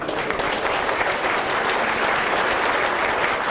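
Sustained applause from a contest audience fills the space, dense and steady throughout with no pauses, close and fairly loud.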